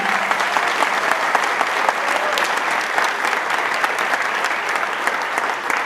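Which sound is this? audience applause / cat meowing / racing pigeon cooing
audience applause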